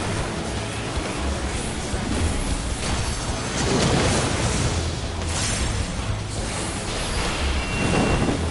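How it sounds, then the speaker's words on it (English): Explosions in Final Fantasy XIV during a Pandaemonium raid fight: a dense, continuous roar of booming blasts and rumble with several louder surges, packed in with busy game effects. "Explosion."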